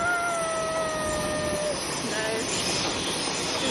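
A train rolls past close by at a station platform in Hayle, Cornwall, a steady broad rush of wheels on rails with a couple of high squealing tones drifting through.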